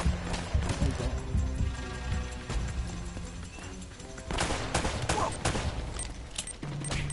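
Bursts of rapid gunfire in Uncharted: Drake's Fortune, volleys of shots rattling off in uneven clusters at moderate loudness, with short gaps between exchanges.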